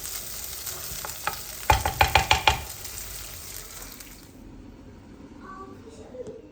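Food is stirred and sautéed in a pan, with a steady sizzle and a quick run of sharp utensil knocks against the pan before the frying fades into a quieter hiss.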